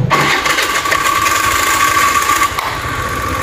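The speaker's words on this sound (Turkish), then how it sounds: "Bir daha marşımıza basacağım." A Honda Spacy 110 scooter with a newly replaced engine block starts on its electric starter. A loud, immediate start settles into a steady mid-pitched running engine with a faint whine.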